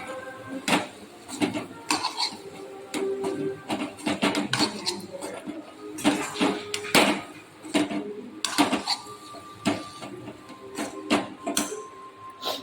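Squid roast being stirred and mixed in a pan, irregular metallic scrapes, clinks and knocks of a utensil against the cookware, close and moderately loud with short pauses between strokes.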